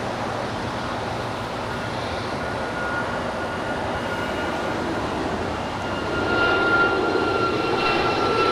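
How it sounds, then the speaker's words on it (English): Hawaiian Airlines Airbus A330 taking off from Los Angeles International Airport, a steady broad jet roar held at a distant, even level, swelling slightly toward the end as the engines build. "A rare Southside departure for Hawaiian A330 heading to Kahului."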